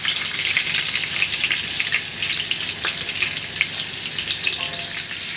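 Butter and oil melting in a hot pan for butter chicken biryani, a loud, continuous crackling sizzle with dense spatter throughout, close up.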